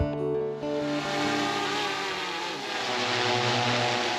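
A GoPro Karma drone flies with a continuous, droning propeller whine that has steady tonal layers and slight pitch shifts. It sounds fairly close and no one speaks.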